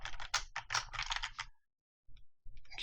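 Close, quiet computer keyboard typing in rapid bursts of key clicks, with a short pause before a few more keystrokes.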